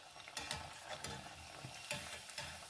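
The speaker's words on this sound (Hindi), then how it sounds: "और गोल्डन ब्राउन होते तक फ्राई करेंगे।" An instant fasting snack fries on a tawa, a faint continuous sizzle broken by soft scraping and stirring taps.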